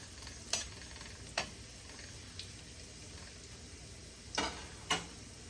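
Garlic sautéing in butter in a pan gives a soft, steady sizzle, punctuated by a few brief scraping clicks of a utensil stirring against the pan.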